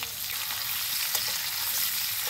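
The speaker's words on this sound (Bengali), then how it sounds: "আলুগুলো আমি লাল লাল করে ভেজে নিলাম" Small potatoes with salt and turmeric frying in hot oil in a pan, a loud continuous close sizzle with occasional stirring crackles and no voices.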